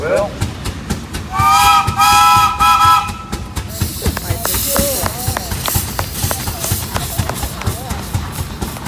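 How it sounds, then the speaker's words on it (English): A steam traction engine's whistle blows loud and close at an annual steam show, a bright multi-tone blast lasting about two seconds, set amid a busy outdoor din of engine chuffing, clanking and crowd noise. "So how about a whistle, Bill?"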